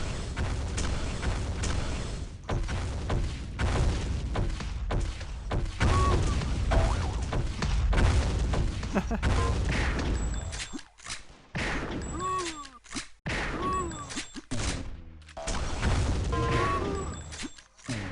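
Automatic rifle fire in the Sauerbraten arena shooter comes in rapid, dense bursts with booming impacts, loud and near, broken by brief gaps and a few pickup chimes.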